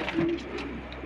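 A single soft, low coo from a nearby pigeon of the Kamagar breed kept for sale in Lahore, brief and fairly quiet against light background hiss.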